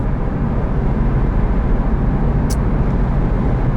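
Naturally aspirated engine of a 2007 Porsche 911 (997) Carrera S with manual gearbox pulling hard from inside the cabin, a loud, steady low roar with no talking.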